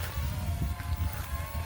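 Two small drones, an M23 and a K100 Max, flying together outdoors in wind, a steady buzzing whine of motors with low wind rumble underneath, continuous and fairly close.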